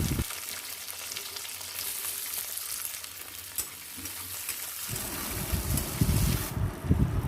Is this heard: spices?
yes